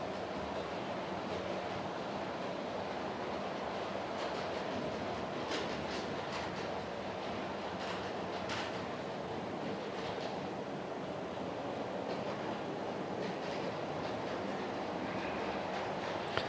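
Model railway trains circle their track in a steady, faint clattering rumble with soft clicks of wheels over rail joints, continuous with no talk.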